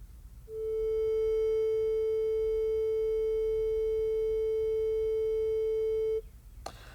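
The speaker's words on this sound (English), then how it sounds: "This is a 440 hertz A sound wave," A pure 440 Hz sine wave, the musical note A, sounds as one steady, unbroken tone for about six seconds over faint background hiss, then cuts off cleanly.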